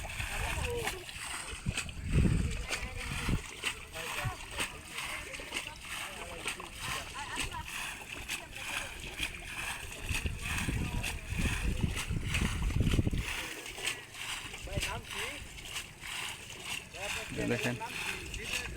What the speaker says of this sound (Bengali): পানি হিসতেছে, পানি ফালাইতেছে